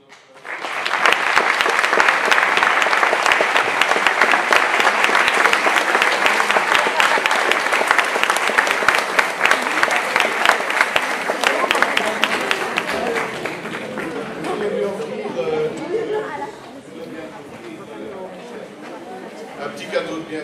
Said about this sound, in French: je vous propose de terminer ici, d'applaudir notre...